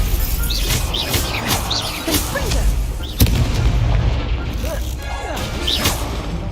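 Spell-casting effects in the Hogwarts Legacy video game, a Stupefy spell fired in combat: a dense run of bursts, booms and crashing impacts over a loud, continuous battle din, with a sharp hit near the middle and a speaking voice mixed in.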